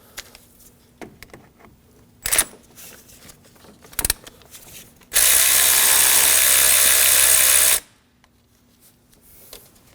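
A ratchet works on two 10 mm bolts holding the rear variable valve timing solenoid on a 2013-2015 Subaru XV Crosstrek. Two short bursts of clicking give way to a longer, loud continuous rasp, then quiet.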